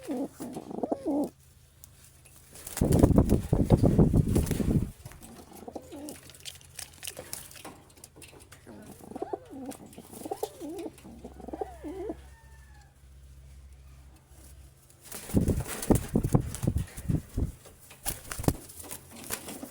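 Pigeons coo softly and repeatedly, with a few louder bursts of flapping or rustling, while someone talks quietly nearby.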